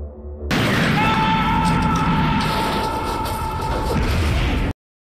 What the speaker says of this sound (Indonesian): Sayangnya mobil yang terbakar itu malah meledak tepat di lumbung.